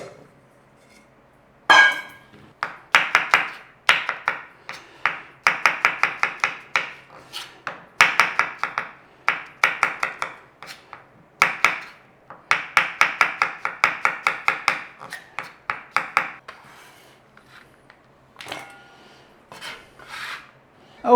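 Knife slicing mushrooms on a cutting board, a rapid run of crisp chopping taps in bursts with short pauses, close and clear with no talk.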